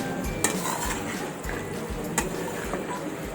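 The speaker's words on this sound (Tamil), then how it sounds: "அப்படியே நல்லா ஒரு கிளறி விடுங்க." A spoon scrapes and stirs cauliflower rice in a cooking pan, giving soft continuous shuffling with a few sharp metallic clinks, fairly quiet and close.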